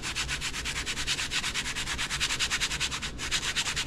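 A folded scuff pad scrubs a car body panel before painting, producing steady rhythmic back-and-forth rasping strokes, close and continuous, with a brief pause near the end.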